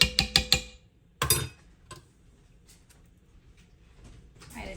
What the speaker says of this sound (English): added some more hot water to the jar, and I'm just shaking it up so I can get all that out